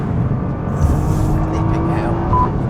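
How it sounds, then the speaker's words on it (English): A 2014 Nissan GT-R accelerates on a track, its engine a loud, steady drone with rising tonal whine heard from inside the car, while someone talks over it. "that is the Nissan GT-R model year 2014"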